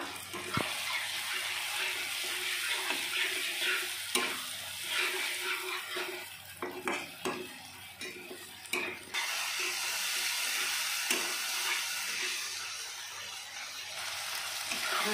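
Ginger, garlic, cumin and dried chillies frying in oil for an egg curry, a steady close sizzle with brief stirring scrapes and clicks scattered through, no voices.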